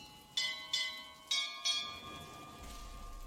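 Bells rung in a lighthouse puzzle in a video game, four clear resonant strikes spaced about half a second apart, each ringing on and overlapping into a lingering hum, moderately quiet.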